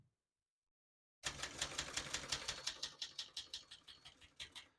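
Typing on a 1978 Brother Webster XL-500 portable typewriter begins after a silent pause, with a quick, close run of about twenty crisp keystrokes that slows slightly toward the end.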